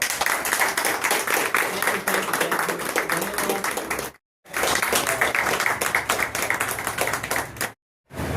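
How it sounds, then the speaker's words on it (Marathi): Loud, dense applause from an audience at a welcome ceremony for a district Congress president in Raigad, clapping steadily for about four seconds, pausing briefly, then resuming before a short gap near the end. "जरा टाळ्या द्या।"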